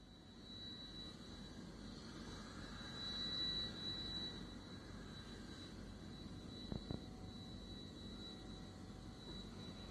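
Rocket Lab Electron rocket engines at liftoff, a steady broad roar of rocket thrust with a tonal whine, swelling slightly midway and holding loud throughout, with a couple of sharp clicks near the end.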